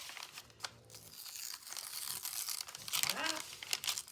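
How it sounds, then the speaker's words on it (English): A page is torn out of a paper journal, with crinkling and ripping bursts that come in several short pulls and are fairly close and moderately loud, while a voice briefly murmurs. "So I'm just gonna tear this out."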